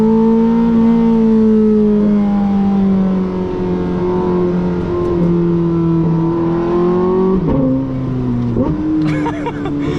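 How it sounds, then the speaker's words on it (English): A Porsche 918 Spyder hypercar's engine wails at high revs from inside the cabin, the pitch stepping down and flaring with sharp blips as it drops through gears on quick downshifts. "Downshift sounds so insane."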